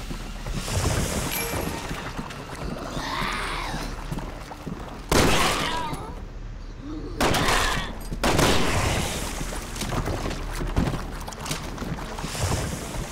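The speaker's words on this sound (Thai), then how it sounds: "เรายิงกันอะไรเยอะแยะนะฮะเปลือง" Gunfire in the video game Resident Evil 6, likely from twin pistols: a dense stretch of shots and impacts with several loud, sharp bursts standing out over a busy, noisy game backdrop.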